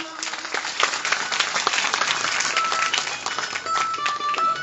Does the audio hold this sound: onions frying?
no